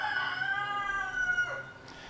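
A rooster crows once, a long drawn-out call fairly close, with faint background noise and no talking.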